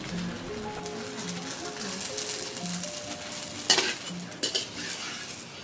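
Bánh xèo pancakes fry and sizzle in a pan over a wood fire, with stirring and a few scraping clinks, while faint talk and tones sit underneath.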